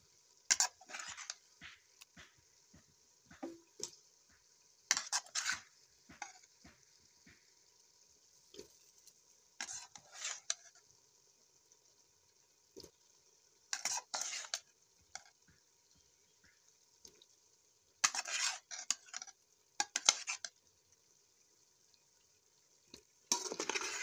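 Potato slices cooking in tomato paste in a pan for a Pakistani lady finger and potato curry, with soft sizzling and intermittent stirring scrapes in short bursts, quiet and close, with no talking.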